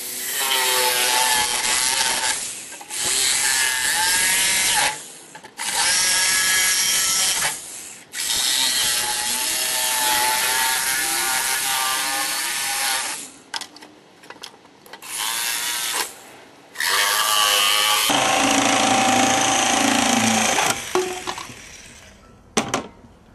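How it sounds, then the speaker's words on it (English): Jigsaw cutting through a plastic alpine snowboard riser, a loud, buzzing rasp in repeated long passes separated by short pauses, close up, with the pitch shifting as the blade works through the material. "We're going to use the jigsaw because it's going to cut through a whole bunch easier."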